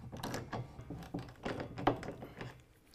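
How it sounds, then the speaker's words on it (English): A wrench tightens the bolt holding a headache rack bracket to the stake pocket of a 2019 Chevy Silverado pickup, giving a few close, soft metallic clunks and ratcheting taps spread over a few seconds with no talking. "Next, using a 15/16, we're gonna go ahead and tighten down the bracket to the stake pocket bolt."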